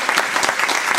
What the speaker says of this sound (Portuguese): As palmas são muito bem-vindas